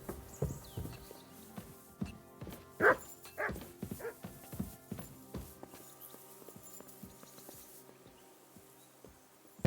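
A dog barks repeatedly in the medieval role-playing game Kingdom Come: Deliverance II, uneven bursts close by over soft footsteps and hoof-like clopping, with no speech.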